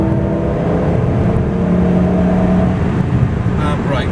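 A Lamborghini Gallardo engine drones loudly and steadily from inside the cabin on a coned driving course, pitch shifting slightly as the throttle is squeezed, with a voice talking over it.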